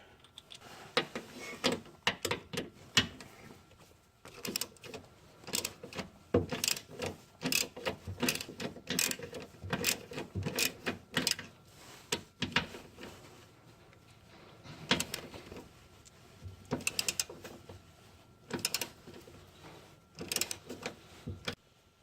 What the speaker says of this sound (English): I'll switch to the ratchet.